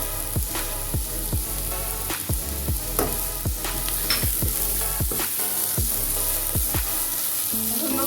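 Ginger, green chilli and garlic sizzle steadily in hot oil in a pan, with loud continuous frying hiss and repeated scraping stirs from a spoon throughout.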